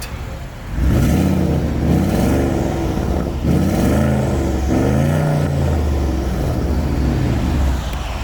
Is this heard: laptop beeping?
no